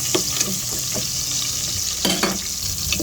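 Garlic sizzles in a hot pan as the first step of chicken adobo, a steady frying hiss broken by a few short clinks and stirring scrapes, close and fairly loud.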